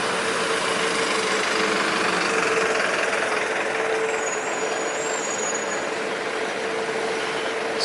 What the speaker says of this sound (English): Just about to be run over by a bus.